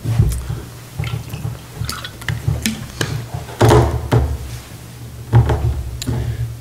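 Water poured into a glass for drinking, close and fairly quiet, with a few distinct splashy pours and drips over a steady low hum, no talking.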